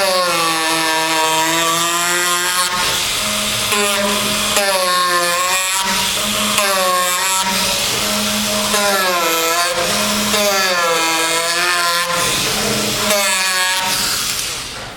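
Reciprocating power carver fitted with Flexcut cutters working a wooden platter, a loud buzzing motor with a fluctuating pitch that rises and falls as the blade bites into the wood, continuous and close.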